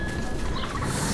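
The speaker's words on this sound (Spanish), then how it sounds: "¿Pájaros?" Birds squawking in the video game Metro 2033, a brief burst of rough, gobbling fowl-like calls over a dense ambient background, with no talk.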